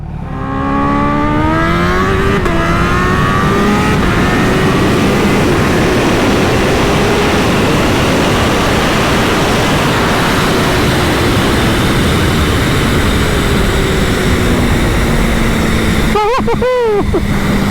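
A Kawasaki Ninja H2 motorcycle fitted with a new aftermarket exhaust roars loudly and steadily at speed, its engine note rising and falling as it revs. A brief sharp burst of revs comes near the end.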